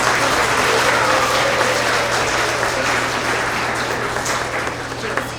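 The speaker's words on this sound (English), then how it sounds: "Another round of applause for all of our honest TK and kindergartners." Steady applause from an audience at a school award assembly honoring TK and kindergarten students, with dense clapping filling the room for several seconds before slowly tapering off.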